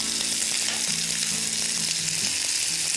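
Lamb cutlets with a golden cheddar and cashew crust sizzle steadily in a hot frying pan, a constant close crackle with no pauses.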